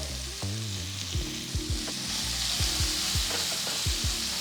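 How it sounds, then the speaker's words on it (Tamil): A large chopped onion and five green chillies sauté in a hot pan for beetroot egg poriyal, giving a steady loud sizzle with repeated scraping stir strokes throughout. "ஜஸ்ட்டு ஒரு 1 மினிட் இதை நல்லா வதக்குங்க."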